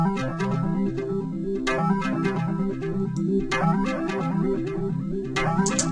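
A synthesizer arpeggio cycling quickly through notes that glide into one another, steady and bright, with no voices.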